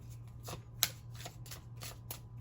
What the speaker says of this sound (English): Let me shuffle these up a little bit here.